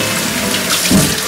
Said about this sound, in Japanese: で、その間にニラをちょっと軽く水洗いをしんの、